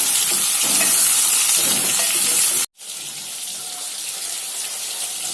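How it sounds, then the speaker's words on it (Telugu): Water on the boil in a pot sends out a loud, dense bubbling hiss that cuts off abruptly midway, then resumes at a lower, steadier level with no talking. "నీళ్లు మసులుతున్నాయండి."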